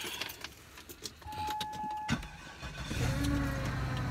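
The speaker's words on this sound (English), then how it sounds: "right now I'm trying to warm up the car so I can go ahead and get ready for work" On a cold snowy day, keys jangle before a car engine starts up and settles into a low, steady idle as it warms, close by with no talk.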